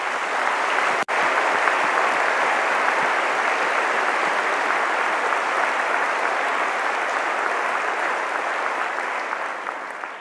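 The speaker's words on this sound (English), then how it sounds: "So can we have a big round of applause for them?" Sustained, loud applause from a large audience at a university summer graduation ceremony, dense and even throughout with one sharp click near the start.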